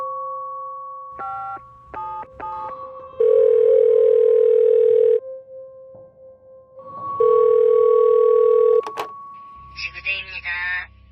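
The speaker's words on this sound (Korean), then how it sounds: "겁에 질린 여성은 다급히 경찰서에 전화하기 시작합니다." A phone call to a police station: a short series of dialing tones, then two long ringback tones separated by a pause, a sharp click as the line connects, and an electronic beeping burst at the end.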